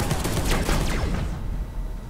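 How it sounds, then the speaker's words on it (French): A plasma cannon firing in the game Space Hulk Deathwing, a burst of loud crackling energy blasts with sweeping whines that cut off abruptly into a quieter hum, no speech. "t'as vu avec le canon à plasma tu tires pas vite"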